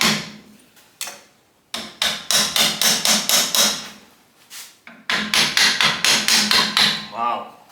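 Hammer tapping a part off a Craftsman 10-inch table saw during restoration: two quick bursts of rapid, evenly spaced metallic taps, about eight strikes each, loud and close, separated by a few isolated knocks.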